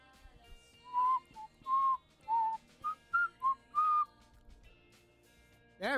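Someone whistles a short, halting tune of about eight separate notes, alone and fairly quiet, ending with a brief sharp noise.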